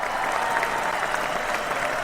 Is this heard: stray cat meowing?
no